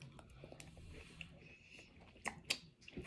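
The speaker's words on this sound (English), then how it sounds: "I can make noise while I'm eating and I'm chewing my mouth open" Wet, open-mouthed chewing of fruit during a mukbang, quiet and close, with a couple of sharper squishy bites near the end.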